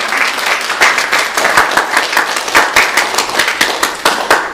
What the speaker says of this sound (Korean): 우리 다 같이 박수로 생일 축하하겠습니다.